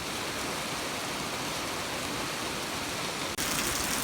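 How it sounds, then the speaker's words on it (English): Steady, dense overnight rain hisses without a break onto a hayfield of cut hay, with a brief dip near the end before the downpour continues. "But it's raining. I can hear it outside."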